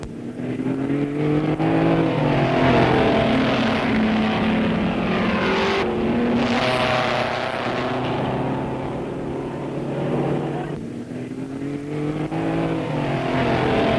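Race cars in the 1959 Bathurst 100 Easter race roar through the cutting, a loud sustained engine drone with several cars passing close in overlapping waves, pitch shifting as they go by.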